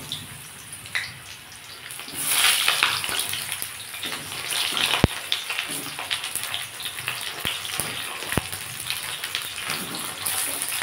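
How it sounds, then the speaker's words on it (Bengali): Pointed gourd pieces fry in hot white oil in a kadai, making a steady, close, hissing sizzle that swells slightly and runs on without pause, with a few sharp pops. "আমি এবার পটলগুলো ভালো করে লাল লাল করে ভেজে নেব।"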